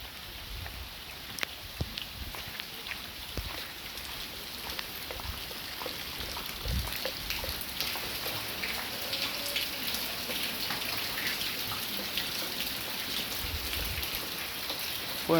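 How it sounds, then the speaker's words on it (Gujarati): Steady rain falling, an even wash of patter with scattered drops, fairly close and continuous throughout, with no talking. "વરસાદ મેઘરાજા છે"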